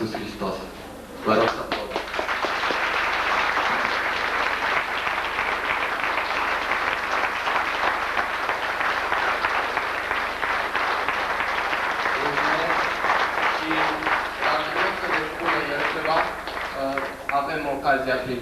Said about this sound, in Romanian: Vă rog să aplaudăm.